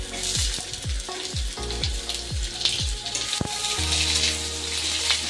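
Potato pieces and onion fry in a pan for a rohu fish dish, a loud steady sizzle punctuated by a series of spatula strokes and scrapes as the mixture is stirred, close and without talk.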